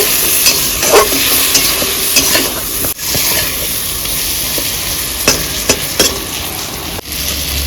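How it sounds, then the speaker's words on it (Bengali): Shol fish being stirred with salt and turmeric in a pan, a steady scraping, sizzling stir with intermittent clacks of the spoon against the metal, close and continuous with no talking. "লবণ হলুদ দিয়ে আমি ভালো করে নাড়িয়ে নিচ্ছি"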